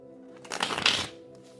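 A deck of Egyptian tarot cards is shuffled close by, one quick riffling burst of about half a second rising out of a quiet room hum, with no talk over it.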